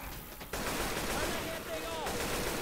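Rapid gunfire bursts in Left 4 Dead 2 rattle almost continuously, loud and dense, with players talking over the shooting.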